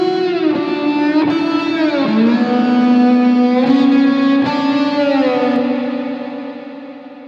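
Sustained synth tones with stepping pitches wash through a long, metallic spring reverb plugin set to a long reverb time, with sharp clicks and a slowly fading tail.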